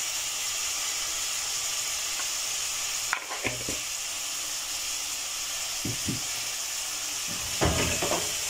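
Tomatoes seasoned with salt sizzle steadily in a pan for a tripe (matumbo) dish, a constant close hiss broken by a few sharp clinks and scrapes of stirring.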